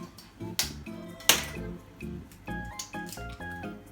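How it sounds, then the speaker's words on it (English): Eggs are cracked and separated into yolks and whites while baking a cheesecake: two sharp, close cracks about a second apart, followed by softer handling sounds, with a steady tonal background underneath. "This is Hannah separating egg yolks and egg whites."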